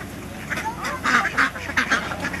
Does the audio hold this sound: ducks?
yes